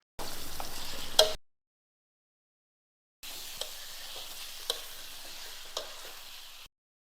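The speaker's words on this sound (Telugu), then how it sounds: "ఇప్పుడు మనం హై ఫ్లేమ్‌లో పెట్టి ఒక 2 మినిట్స్ మనం ఇది బాగా కుక్ చేసుకోవాలి." Marinated chicken for chintha chiguru curry frying over a high flame, a steady sizzle in two stretches separated by silence, with occasional stirring clinks.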